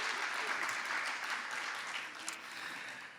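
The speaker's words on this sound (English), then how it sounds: "A round of applause for Saroya." An audience at a sports industry panel event applauds a speaker's introduction, a dense, continuous roll of many hands clapping that holds steady and slowly fades toward the end.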